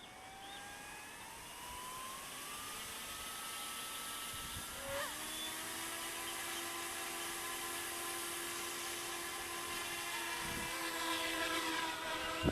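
An Eachine E200 RC park-flyer helicopter spools up steadily with a rising whine and rotor drone, then lifts off outdoors in light wind, the motor tone holding loud and continuous close by.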